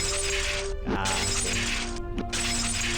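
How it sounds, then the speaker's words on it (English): A loud, shrill glass-shattering effect from the Higurashi visual novel, where windows are smashed one after another. Sharp breaking crashes hit twice over a sustained ringing, crackling wash of falling shards. "glass shattering sound. It's a little shrill, but..."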